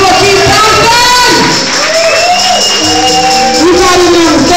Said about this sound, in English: Give the man some applause for Keith Thompson!